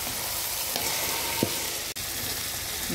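Marinated mutton hits hot oil and fried spices in a pan for a Bengali mutton curry, giving a steady, close sizzle with a couple of brief scraping clicks partway through.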